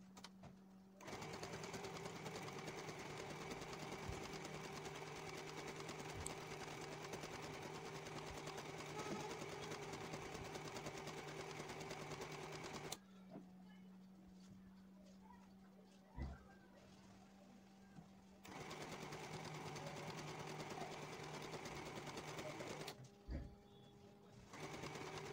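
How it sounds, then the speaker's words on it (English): A sewing machine stitches the side seams of a maxi ruffle dress, running in a steady close whir with a long pause midway and a brief stop before starting again. "So I'm just sewing my sides."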